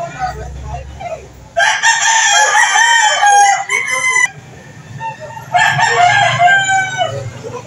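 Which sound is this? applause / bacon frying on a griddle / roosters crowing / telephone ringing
roosters crowing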